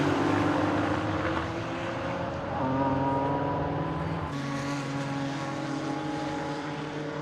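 A TVR race car at Donington Park during a Classic Sports Car Club race drones past with a sustained engine note whose pitch shifts partway through, loud and steady without talk.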